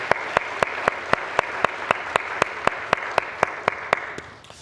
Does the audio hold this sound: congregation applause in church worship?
yes